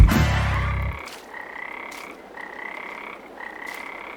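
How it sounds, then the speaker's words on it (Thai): Frog croaks inside the video game Farming Simulator 22: after a loud low burst at the start, a repeated ringing croak call sounds roughly once per second, steady and moderately loud against quiet ambience. "ผมจะไปจับกบตัวนี้"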